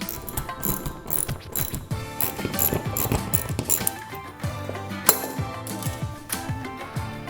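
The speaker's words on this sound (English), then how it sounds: "I'm going to use a socket set. It's a 1/2 inch socket." A 1/2 inch socket ratchet tightens the top and bottom screws of a wall anchor, giving a busy run of rapid mechanical clicks and pawl rattles with a few louder knocks, close and fairly steady throughout.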